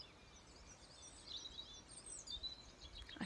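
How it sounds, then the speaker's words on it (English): Faint morning birdsong chirps and trills in the distance against a soft outdoor hiss, with no voices present. "up with the birds, as you can hear in the background."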